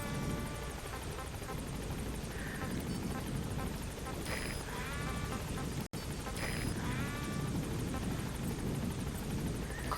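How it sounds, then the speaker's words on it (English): A low support-helicopter rumble in Metal Gear Solid V: The Phantom Pain drones steadily throughout, with a voice speaking over it and a brief cut partway through. "Support helicopter has arrived."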